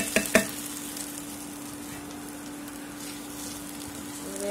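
Spices and chicken fry in oil in a pan for gongura chicken, a soft continuous sizzle with a couple of sharp clinks of stirring at the start and a faint steady hum underneath.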